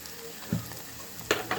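Beef tripe frying gently in a pan over low heat, a soft steady sizzle with a few brief stirring scrapes and clicks near the middle and end, no talking.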